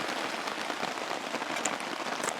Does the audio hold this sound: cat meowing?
no